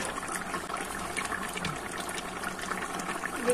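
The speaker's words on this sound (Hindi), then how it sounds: "अभी इसमें डालेंगे गर्म पानी" Hot water from a kettle pours steadily into a pot of beef nihari, a continuous rushing splash held for several seconds, close and moderately loud, with no talking.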